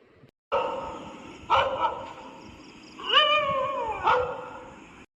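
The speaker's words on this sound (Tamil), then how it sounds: "இந்த நாய் வேற வெறுப்பேத்திக்கிட்டு இருக்கு" A dog gives a few short, pitched yelps and whines, one near the start and a longer rising-and-falling cry in the middle, fairly close against quiet background noise.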